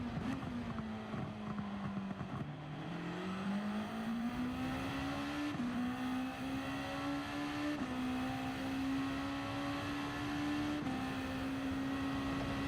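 A race car engine on an outlap in Gran Turismo 7 drones at a steady, moderate pitch, with brief dips and rises as gears change, and it runs continuously without any speech.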